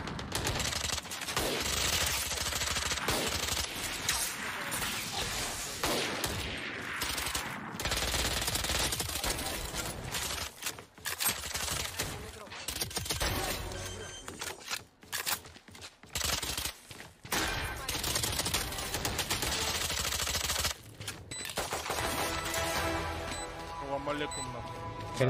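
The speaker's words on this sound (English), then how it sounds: "Why does your gun sound so cool?" Rapid gunfire in the shooting game Valorant comes in dense bursts of close, punchy shots and fusillades, with short gaps between bursts and players talking over the action.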